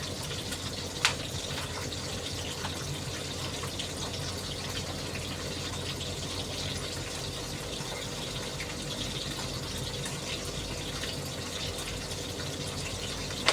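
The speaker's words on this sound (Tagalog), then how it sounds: "Lagyan natin ng konting tubig." A little water is poured into a hot pan of vegetables for fried rice, giving a steady sizzling hiss that holds throughout.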